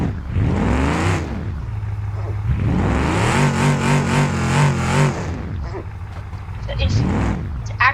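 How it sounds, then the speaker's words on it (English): A car engine revs in repeated rising and falling surges, loud and close, with a long sustained high rev in the middle before the pitch drops away and climbs again. "Oh, I can still rev it."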